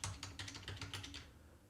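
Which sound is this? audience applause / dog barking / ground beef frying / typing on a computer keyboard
typing on a computer keyboard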